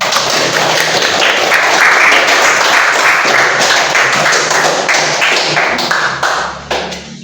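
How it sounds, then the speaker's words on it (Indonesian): A fifth-grade class at an Islamic primary school claps loudly for a student group, with dense, sustained applause that thins out and stops near the end. "tepuk tangan yang meriah"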